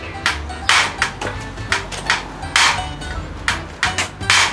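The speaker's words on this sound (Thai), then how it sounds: "ค้อนจับปลายตามตอกเล็งตอกเบาๆกว่านี้วิธีตอกค้อนนะ" Sharp metallic hammer strikes drive nails into a home-extension wall frame, ringing out one after another in an uneven rhythm, close and loud, about a dozen blows with no talking.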